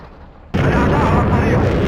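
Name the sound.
Scud missile launch in video game Battlefield Iraq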